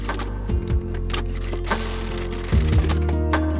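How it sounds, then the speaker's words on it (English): A sewing machine stitches a 1 cm seam on a fabric bucket, its motor whirring up in two short bursts with a rising hum and light mechanical clatter between quieter pauses. "sew with a 1 cm seam allowance"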